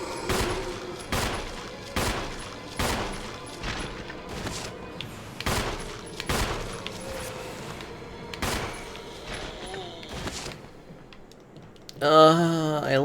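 Gunfire in the video game Resident Evil 2 Remake: sharp, loud shots in an irregular series, roughly one per second, over a low rumbling game backdrop, ending with a rising warbling electronic tone.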